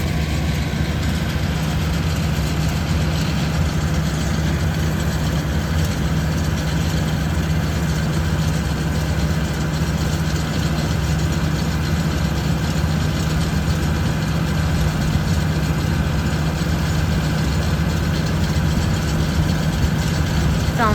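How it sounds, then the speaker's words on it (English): A John Deere tractor runs with a round hay baler in the field, giving a steady, unbroken engine drone at idle that holds at the same loud level throughout with no other clear sounds. "Sounds like there's been a couple issues with the baler not wanting to wrap."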